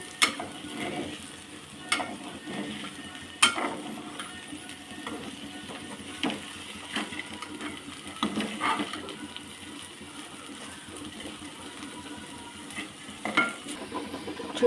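Salted okra fries in a pan with little oil, giving a steady close sizzle broken by intermittent scraping stirs and small clicks throughout.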